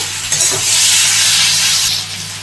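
Green chillies drop into a pan of potatoes and onions frying in oil, setting off a loud, close burst of steamy hissing and sizzling that swells and then eases slightly.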